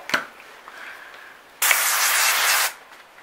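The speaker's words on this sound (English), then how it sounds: "I'm going to take this cooking spray and I'm just going to spray the top of this bowl" A single steady hiss of aerosol cooking spray onto the top of a bowl, lasting about a second, preceded by a faint click and quiet handling.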